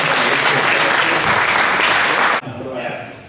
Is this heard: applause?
yes